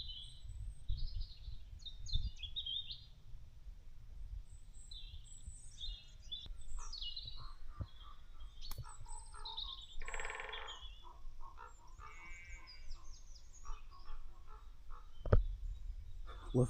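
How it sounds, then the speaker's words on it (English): Woodpecker calls in a churchyard among the ruins of a lost community at St Afan's Church, mingled with other birdsong and chirps, fairly distant and soft over a low rumble of wind, ongoing for the whole stretch. "Love that woodpecker song."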